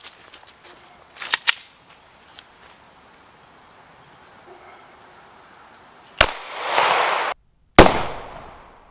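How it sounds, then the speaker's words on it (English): A single loud, sharp .40 caliber gunshot fired at a target outdoors cracks out near the end, after some quieter knocks and clicks, followed by a brief echoing rush. "now we're going to shoot a 40 caliber at the same target and see what it does"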